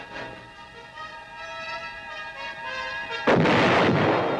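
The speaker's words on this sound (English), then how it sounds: "The big mobile guns continued to do their share in dispersing the enemy." Big mobile artillery guns fire in Vietnam War combat, a single heavy booming blast landing near the end after a steady droning hum, with the roar lingering loud afterward.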